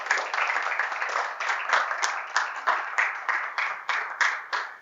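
Church congregation applauding God after talk of miracles, a dense, steady wash of clapping that pulses in waves and sounds fairly close, with no voices over it.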